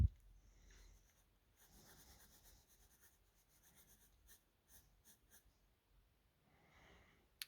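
Pencil sketching the basic outline of a hand drawn from observation, heard as soft, faint scratchy strokes on paper in short bursts across a quiet room.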